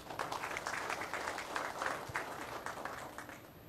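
Audience applause at a Philippine National Police flag raising ceremony, a steady wash of many hands clapping at moderate distance, faint and sustained throughout without talk.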